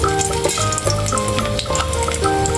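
Chana dal, cumin and mustard seeds fry in hot oil for an Andhra-style okra and coconut fry, with a steady close sizzle and light crackle over a faint, sustained tonal hum.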